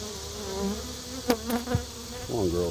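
Honey bees buzz in an open hive at close range, a steady hum with individual bees passing nearby and a brief rising whine near the end.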